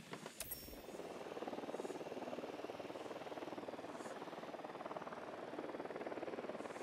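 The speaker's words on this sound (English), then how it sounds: "Deploying drone." Steady mechanical whirring hum of a drone deploying in a military shooter game, a faint, even rotor-like drone after a sharp click at the start.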